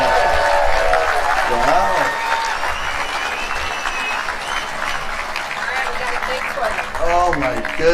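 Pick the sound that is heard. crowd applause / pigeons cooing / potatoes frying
crowd applause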